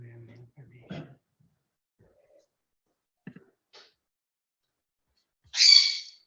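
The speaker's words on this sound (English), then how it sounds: "I have a bird here in the background" A pet bird in a home gives one short, shrill squawk near the end, after a few moments of soft, intermittent talking and near silence.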